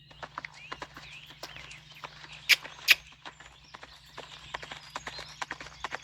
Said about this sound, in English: I am just now going to canter once I get into this corner